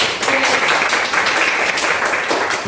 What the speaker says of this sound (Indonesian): Good, tepuk tangan buat.